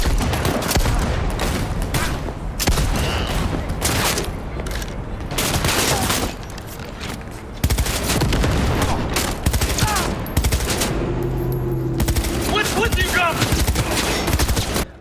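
Dense rapid gunfire from Cyberpunk 2077 weapons, bursts of automatic fire and fusillades crackling nearly continuously and loud throughout, with a brief lull and some mechanical clatter near the end.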